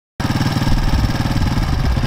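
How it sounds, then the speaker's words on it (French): A motorcycle engine runs close by after a sudden start, with a loud, steady, throbbing low rumble and rapid firing pulses that hold continuously. "J'ai vu, c'est une très bonne moto."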